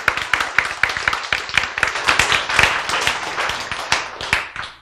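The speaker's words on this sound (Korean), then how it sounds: "박수!" Audience clapping in a church gathering after a sermon line, a loud dense burst of many hands clapping continuously and close for several seconds.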